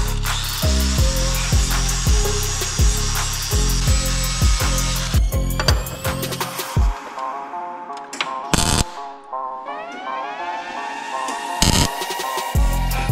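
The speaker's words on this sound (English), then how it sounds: "this wire wheel right here, this thing just rips the paint right off" A wire wheel on a power tool strips paint off metal with a loud, continuous grinding whir and rapid rattling, then stops and restarts in short bursts toward the end.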